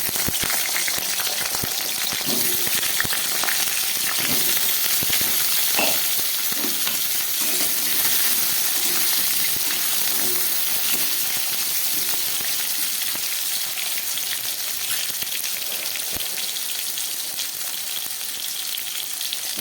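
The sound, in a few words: potatoes frying in oil in a wok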